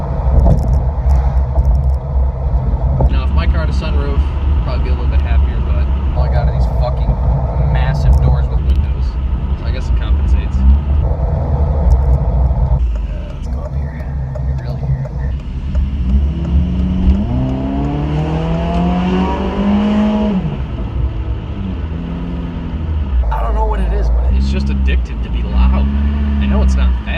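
A 2010 Honda Civic with an aftermarket exhaust idles with a deep rumble, then revs in several rising and falling pulls, close and loud, while someone talks over much of it.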